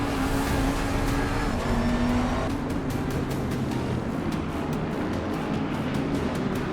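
A 2018 Bentley GT3 race car in Assetto Corsa Competizione, its engine droning steadily at a held pitch, then shifting into a rougher, pulsing note, loud and continuous with no talk.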